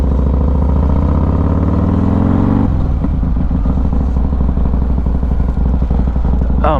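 Harley-Davidson motorcycle engine idling loud and close, a deep steady lumpy throb that shifts pitch once before settling into an even rumble, with no talk over it.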